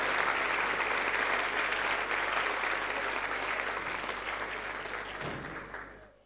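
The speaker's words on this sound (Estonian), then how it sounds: "Teeme veel ühe suure aplausi Anacondale." Audience at a playback show applauds a performing act called Anaconda, loud sustained clapping with crowd noise that fades out at the end.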